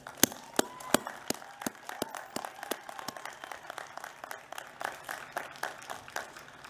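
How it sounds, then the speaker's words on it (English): Applause for graduates at an Indiana University commencement ceremony: a thin, sparse clatter of separate claps with sharp individual hits, fairly quiet, as from a small number of people rather than a full crowd. "please join me in recognizing all of these graduates and their families and their friends with a hearty round of applause"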